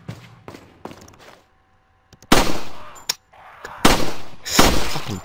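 Gunshots in the video game Resident Evil 4, a few loud sharp bursts in close succession after a quieter stretch of scattered thuds and clanks.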